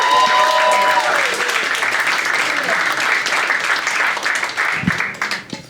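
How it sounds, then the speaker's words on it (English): A stand-up comedy audience applauds comedian Muhammad Ali at a Laughing Skull show, with dense, steady clapping filling the room and an announcer's voice fading out at the start. "Start clapping right now for Muhammad Ali."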